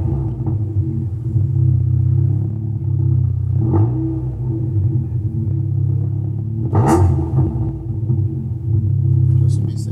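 Ford Escort with a Zetec engine running on MegaSpeed fuel injection, revved in a few quick blips over a steady low rumble, close and loud, with a short clatter between revs and a voice speaking nearby.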